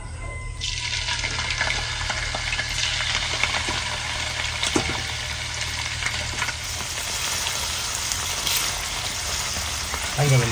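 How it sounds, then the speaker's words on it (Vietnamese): Meat sizzles and fries steadily in a hot pan for a Vietnamese home-cooked pork rib dish, a continuous close crackle with occasional stirring clatter and no talk. "Rồi mình xôi nè, giờ mình cho thịt vô để mình chiên."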